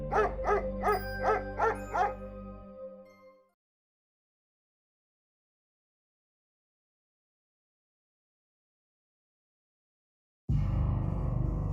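A dog barks and howls in drawn-out, rhythmic cries for a few seconds, then silence, before a loud burst of noise returns at the end.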